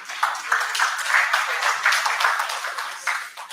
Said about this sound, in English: I think we need to give Bitcoin a round of applause